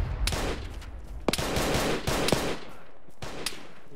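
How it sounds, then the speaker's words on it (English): Gunfire in a military video game battle, several sharp close shots cracking among a dense rattle of automatic fire, loud and irregular over about four seconds with no talk. "Taking fire from the north. Shit, taking fire."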